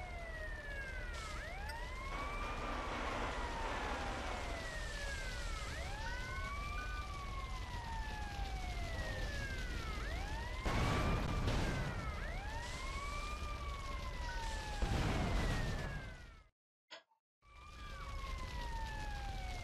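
A fire truck siren in the video game GTA Vice City Stories wails in loud, repeated rising and falling sweeps over steady engine and street noise, with a couple of harsh bursts before it briefly cuts out and returns.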